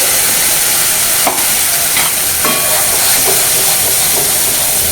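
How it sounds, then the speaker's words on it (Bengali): Green pea paste cooks with spices in a wok over a medium flame, producing a loud, continuous sizzling hiss broken by a few scraping and tapping strokes as it is stirred. "মশলার সাথে ভালো করে মিশিয়ে নিয়ে কড়াইশুঁটিটা একেবারে শুকনো শুকনো হয়ে আসা অবধি মিডিয়াম ফ্লেমে ভালো করে রান্না করতে হবে"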